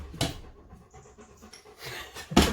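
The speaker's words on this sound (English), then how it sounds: "That's not me heavy breathing, it's the dog." A dog pants heavily and rhythmically close by, with louder bursts of breath at the start and end of a quiet stretch.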